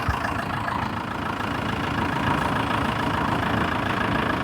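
A diesel vehicle engine idles steadily up close, a low knocking rumble that holds even throughout with no voices.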